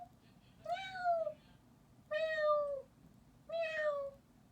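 A human voice imitates a cat, giving three separate drawn-out meows with pauses between, each rising then falling, clear and close.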